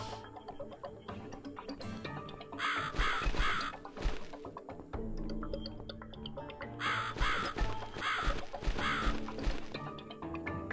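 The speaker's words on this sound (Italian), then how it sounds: "Il corvo continua a..." Crows caw repeatedly in the video game The Cat Lady, harsh calls rising over a dark musical score, loud in two bursts with quieter stretches between.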